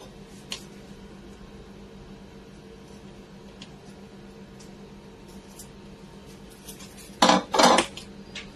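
Reusable clay handi cooking pots from a Champaran mutton and chicken dish are handled, giving one faint early knock and then two loud clattering bursts of ceramic contact near the end, against a quiet background.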